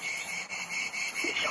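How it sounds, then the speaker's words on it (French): Cicadas chirp in a steady, high, shrill drone outdoors, pulsing slightly in strength, close and continuous with no voices over it. "Et là, on écoute les cigales."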